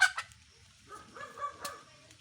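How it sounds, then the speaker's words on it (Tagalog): Chickens clucking and squawking on a backyard farm plot near bean plants, a few short bursts and chattering calls, close and moderately loud. "Ang ingay ng mga manok na ito."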